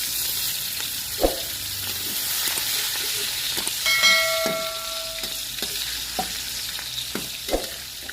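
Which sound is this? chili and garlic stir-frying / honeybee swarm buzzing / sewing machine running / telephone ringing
chili and garlic stir-frying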